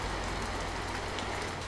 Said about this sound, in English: I was once again greeted by a rainy Tokyo night while walking to the back area of Roppongi.